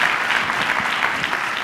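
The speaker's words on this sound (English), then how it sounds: "big round of applause for Nadia, please" A live conference audience claps for a featured guest, a dense, continuous wash of applause filling the room with no pauses, fairly loud and close.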